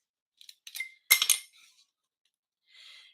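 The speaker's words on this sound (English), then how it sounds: "trim that off with my scissors." Scissors trim paper for a stamped card, a few crisp snips and rustles close by, followed by a soft rustle of paper after a short pause.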